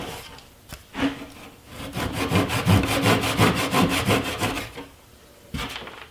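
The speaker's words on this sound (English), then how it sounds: "now I'm going to cut the plug flush with the tabletop with a pull saw" A Japanese pull saw trims a glued wooden plug flush with a ping pong tabletop, rhythmic rasping strokes building to a steady back-and-forth after a few tentative starts, then a brief pause and one more stroke.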